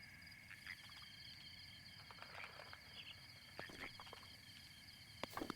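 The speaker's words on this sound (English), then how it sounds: "Is that a frog? I thought it was a bokoblin for a minute." A frog croaking in the Breath of the Wild video game, heard as faint repeated chirps and croaks over a steady low background hum.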